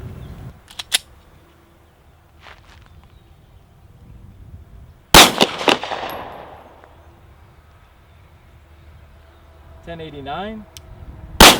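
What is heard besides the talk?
gunshots from a Glock 43 pistol, old Winchester 124 grain NATO ammunition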